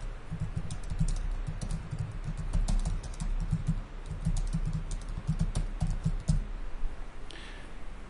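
Fast, irregular typing on a computer keyboard, with light clicking keystrokes coming in quick bursts and short pauses, heard close and fairly quiet with nobody talking.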